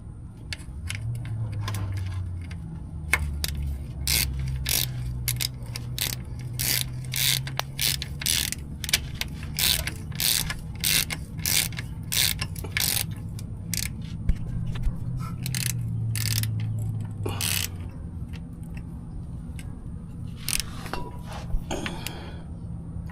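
A ratchet tightening a stud on a transmission selector input shaft, rapid close clicking strokes in repeated bursts over a low mechanical hum, with a faint voice near the end.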